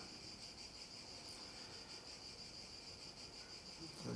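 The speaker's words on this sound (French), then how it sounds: "Les cigales sont là." Cicadas chirp in a constant, high, shimmering drone that holds steady throughout, moderately loud, with no voices.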